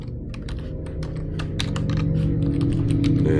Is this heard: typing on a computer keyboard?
yes